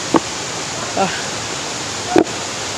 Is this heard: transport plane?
no